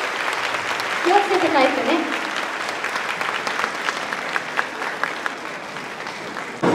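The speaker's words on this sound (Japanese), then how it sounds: "インタビューに答えてくれたどっこちゃんを盛大な拍手でお送りください。" A concert hall audience at the Fukuchiyama Music Festival 2024 gives sustained applause to send off a young guest named Dokko-chan. The broad, even clapping comes from many hands, and someone speaks briefly over it.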